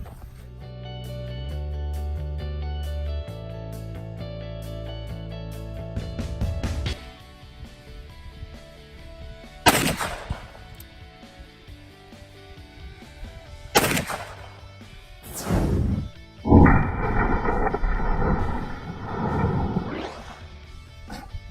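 A Ruger .45 fired outdoors gives a few loud, sharp reports spaced several seconds apart, each a sudden crack with a short decay, heard after a stretch of steady background sound.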